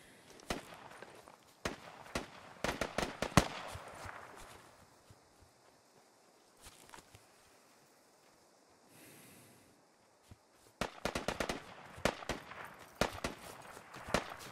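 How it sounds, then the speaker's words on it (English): Gunfire in the Squad video game on the Gorodok map, with scattered sharp shots and bursts at moderate distance, a quieter stretch in the middle, then denser rapid volleys toward the end. "Hearing shots fired in the west,"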